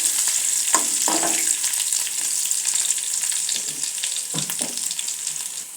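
Cumin, mustard seeds, curry leaves and chopped garlic fry in hot oil for a dry okra dish, a loud steady crackling sizzle close by with a few stirring knocks and scrapes, no talk.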